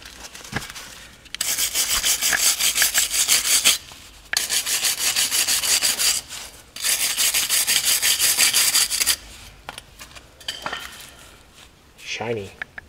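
A rusty brake caliper bracket on a Golf Mk4 is scrubbed clean, giving loud, rhythmic abrasive strokes in several bursts separated by short pauses, close up and with no talking.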